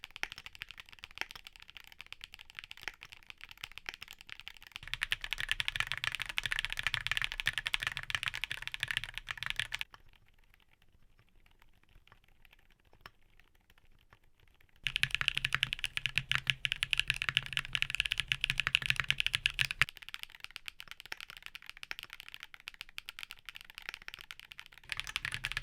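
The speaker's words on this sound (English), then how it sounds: "here are back-to-back sound tests for the switches we talked about today" Hall effect switches on a mechanical keyboard are typed in rapid, steady bursts of close clacks, with one quieter stretch of softer taps between two louder runs.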